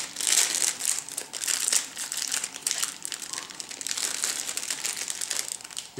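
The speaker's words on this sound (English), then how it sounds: "I'll take it out of the packaging." Plastic wrapping crinkles and crackles continuously as a Hostess Twinkie is unwrapped up close, a loud, busy rustle without pause for several seconds.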